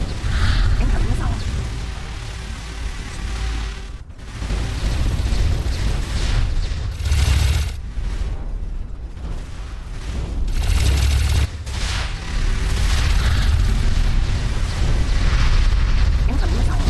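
Missile explosions in the space game X4 Foundations, loud rumbling blasts and booming impacts rolling almost continuously, with a brief lull near four seconds and a synthetic voice warning over the din.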